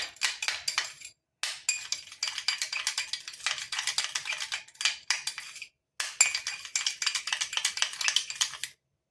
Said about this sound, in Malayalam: നമ്മുടെ കസ്തൂരി മഞ്ഞളും പാലും ഇതെല്ലാം കൂടി നല്ലപോലെ ഒന്ന് മിക്സ് ചെയ്ത് കൊടുക്കുക